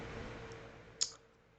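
A single sharp computer mouse click sounds about a second in, quick and fairly close, over a faint room background while working in a spreadsheet-style production management system.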